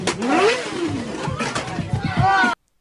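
A motorcycle engine revs hard during a burnout, rising and falling whines in quick bursts that cut off abruptly at the end.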